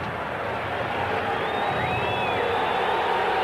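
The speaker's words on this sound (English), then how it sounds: "And the crowd booing" A football stadium crowd at a 1992 Jets–Falcons game makes a steady, distant roar of booing and noise that holds evenly throughout, with a radio announcer's voice faintly audible.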